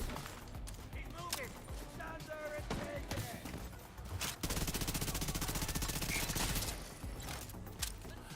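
Submachine gun fire in the video game The Division 2, a sustained rapid burst of shots at moderate volume mixed with other game sounds, with a voice talking in between.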